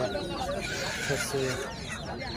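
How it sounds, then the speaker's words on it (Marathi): Chickens cluck continuously in a busy, noisy goat market, with ducks present, overlapping calls and general background chatter. "कोंबड्या देखील आहेत अशा प्रकारच्या कोंबड्या बदक"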